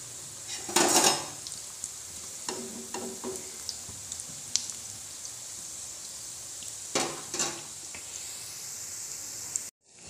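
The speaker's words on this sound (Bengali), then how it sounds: "একদম লো ফ্লেমে আস্তে আস্তে করে ভাজতে লাগবো" Slow frying in oil over a low flame, a gentle hiss of sizzling under intermittent scrapes and clatters of a utensil against the pan, a couple of louder stirring bursts, then a sudden cutoff at the end.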